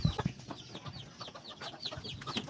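Asil hens on a small farm cluck and murmur softly in short irregular bursts, fairly close, with faint background noise and no speech.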